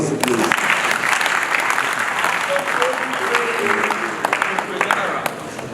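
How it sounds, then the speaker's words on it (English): A large audience at a Nigerian government ceremony honouring police officers applauds in a sustained, dense roar of clapping, with brief voices and cheers poking through near the end. "A round of applause, please."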